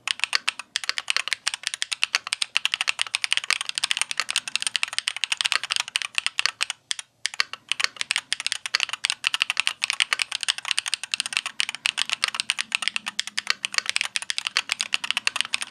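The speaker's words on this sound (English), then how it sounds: "this TTC Uranus SE is the loudest. It's clicky, raspy, a little bit sound, and it may appeal to those who prefer an exaggerated typing noise." Continuous fast typing on a keyboard fitted with TTC Uranus SE magnetic switches, a loud, clicky and raspy sound with dense rapid keystrokes heard up close and alone for about sixteen seconds.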